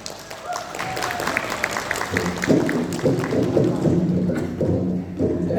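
Crowd clapping at a madihin performance during a program launch in Kalimantan Timur, loud and steady at first, then joined by thumping beats and music-like tones.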